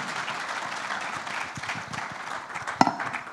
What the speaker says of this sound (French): applaudissons encore nos conférenciers